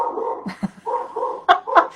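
A dog gives a series of short, close, fairly loud barks and yips, with a few sharp peaks and brief whimper-like tones in between, heard alone without talk.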